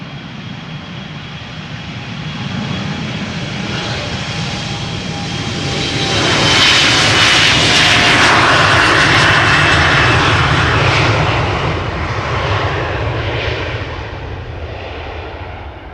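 An airliner departing Amsterdam Schiphol Airport roars past up close, its jet engine noise building to a loud peak in the middle and then easing as it moves away.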